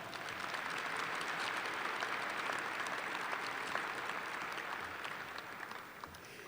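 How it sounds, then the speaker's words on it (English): A commencement audience at a university ceremony gives a sustained round of applause, steady and even, heard at a distance in a large hall and slowly easing toward the end. "Let's give Dakota and Kimberly one more round of applause."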